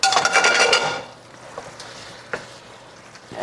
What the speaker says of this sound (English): I'm gonna toss in everything. Just all the stuff that we blanched earlier.